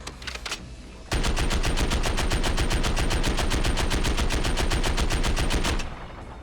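Sustained rapid automatic fire from an MW II EBR-14 (M14) rifle in Fallout 4, loud and close, preceded by a few separate shots, then an unbroken burst lasting several seconds before cutting off.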